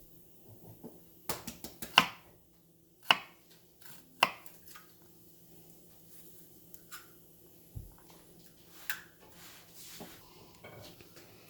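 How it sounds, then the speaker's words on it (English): A knife slicing small peeled garlic cloves, giving a few sharp, isolated cutting taps and clicks with quiet gaps between, close and fairly faint. "Now I will cut it in slices."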